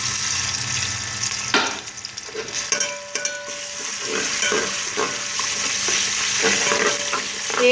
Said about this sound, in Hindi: अदरक लहसुन हमारा भून चुका है